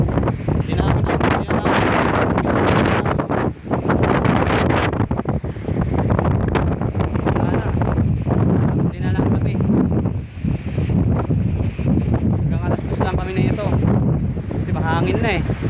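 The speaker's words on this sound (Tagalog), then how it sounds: "Grabe hangin na ito ngayon." Strong wind buffets the microphone in loud, continuous gusts, with people talking underneath the rushing noise.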